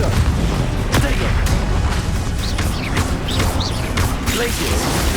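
Confringo fire spell explosions in Hogwarts Legacy combat, a loud dense barrage of booming blasts and crashes over several seconds with sharp impacts, mixed with game voices.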